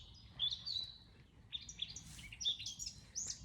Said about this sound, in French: Et c'est important d'écouter ces oiseaux